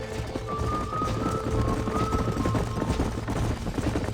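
Horse hooves clip-clop steadily in the video game Red Dead Redemption, a close, continuous patter of hoofbeats with game music tones sounding over it.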